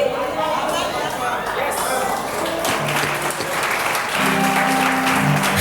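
A church congregation claps together, a dense sustained wash of applause with crowd murmur and chatter mixed in, loud and close throughout.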